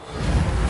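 A Reparo spell in Hogwarts Legacy makes a brief, full-bodied magical whoosh, loud and steady for well under a second.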